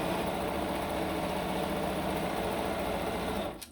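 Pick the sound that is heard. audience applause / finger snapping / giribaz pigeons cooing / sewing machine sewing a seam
sewing machine sewing a seam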